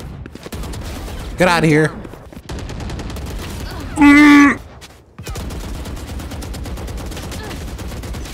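Gunfire from the first-person shooter Valorant crackles continuously in the background, with two short shouted bursts of speech cutting over it.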